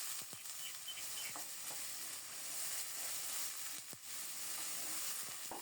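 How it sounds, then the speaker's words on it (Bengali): Spice paste with a splash of water is stirred and sizzling in a pan while cooking banana blossom, giving a soft steady hiss with a few faint scrapes and taps, quiet and close. "এই জলেই মশলাটাকে ভালো করে কষিয়ে নেব।"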